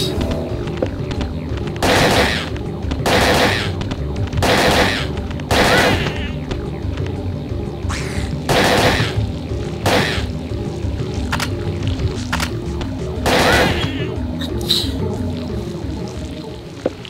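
Parasite Eve II gameplay with a steady series of loud gunshots at roughly one-second intervals over a droning game soundscape, with no speech.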